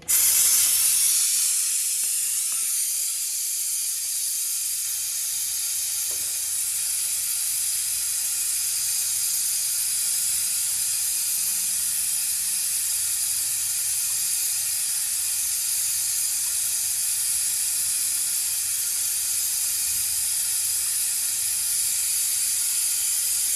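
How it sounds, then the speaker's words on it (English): Pressurised fluid hisses steadily from the left center brake bleed valve of a Honda VFR1200XD Crosstourer motorcycle, a loud continuous airy rush that holds evenly for the whole stretch with no talk. "I'm going to bleed the left center bleed valve now. Okay, get the pressure going."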